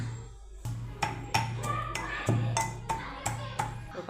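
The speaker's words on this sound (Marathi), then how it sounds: "ओवा आणि लसूण ठेचून घ्यायचा." Garlic and carom seeds (ajwain) pounded coarsely in a mortar, about a dozen sharp knocking strikes in a loose steady rhythm, close and moderately loud over a low steady hum.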